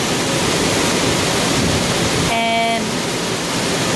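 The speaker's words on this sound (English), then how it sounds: "it is literally pouring outside" Heavy rain pours steadily outside a workplace as a dense, loud, unbroken wash of noise; a voice speaks briefly over it partway through.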